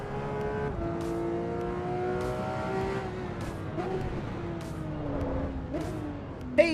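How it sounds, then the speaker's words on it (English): Porsche engine in the racing game Assetto Corsa Evo, a steady harmonic drone holding high revs and then dropping gradually through the gears, loud and continuous with only a faint voice underneath. "And we're driving a Porsche today, which is rare."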